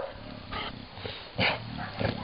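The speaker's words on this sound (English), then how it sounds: "You're making all the chihuahuas bark." A dog barks at sheep outdoors, giving a few sharp, loud barks spaced irregularly across the moment over a steady background hiss.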